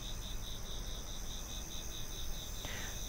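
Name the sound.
cicadas and frogs at night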